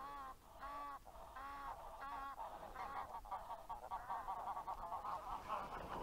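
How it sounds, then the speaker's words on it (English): Geese honk at a pond outdoors, a few distinct nasal calls early, then overlapping honking from a flock at moderate distance. "Look at all those birds."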